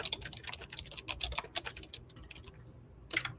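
Keys on a computer keyboard clatter in quick, irregular bursts of crisp close clicks, with brief pauses between runs and no voices.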